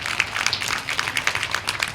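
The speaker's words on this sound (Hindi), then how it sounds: "जोरदार तालियां होनी चाहिए।" A crowd at a literature festival claps steadily, a dense patter of hands carrying on without pause for a couple of seconds.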